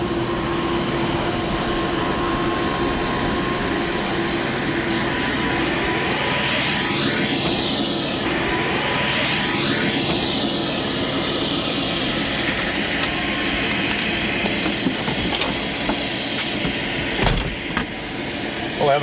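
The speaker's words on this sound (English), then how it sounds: "Would you like to take a tour in our helicopter over Los Angeles today?" A tour helicopter flies over Los Angeles in the 1995 CD-i game Around Hollywood, its steady loud rotor and engine roar filling the scene continuously, with a voice speaking over it.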